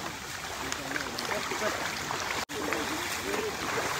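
Wading on foot through water on a rainy, sunny day, with a steady rush of splashing and sloshing close by, a brief dropout midway, and voices chattering over it.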